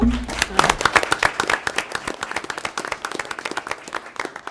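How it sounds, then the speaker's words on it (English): A round of applause breaks out at a Milford city council meeting honoring a resident and family, with dense, crackling clapping from a room full of people that stays steady throughout, voices mixed in underneath. "we're going to do a round of applause for you"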